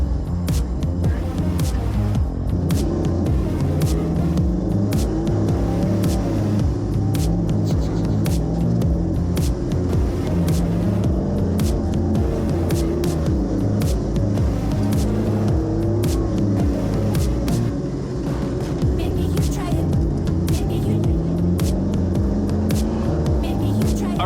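An Audi race car on a circuit, its engine droning continuously near the microphone for the whole stretch, with rising and falling pitch as it accelerates and shifts, under heavy wind rush and road noise.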